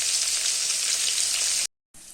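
Bitter gourd frying in oil in a home kitchen: an even, close hiss of sizzling that cuts to brief silence for a moment, then resumes. No voices are heard.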